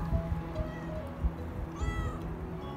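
A cat out in a garden, walking alongside a person, gives a few soft meows over a quiet outdoor background.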